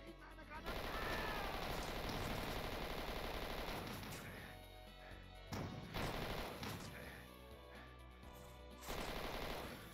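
Rapid machine gun fire in the Doom 2 Zeppelin Armada megawad, loud continuous bursts broken by short pauses, with game sounds and a voice speaking over the action.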